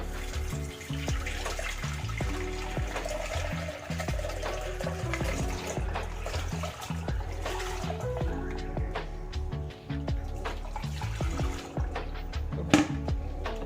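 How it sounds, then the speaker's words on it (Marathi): Spicy chutney water for pani puri being strained through a sieve into a pot, giving a steady trickling and splashing liquid flow with small clinks, close and continuous with no talk. "तेच पाणी मी हे बघा एवढं पाणी त्यात गाळून घेतलंय। तर मी गाळून घेते।"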